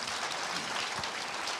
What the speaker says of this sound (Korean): 의원에게 박수를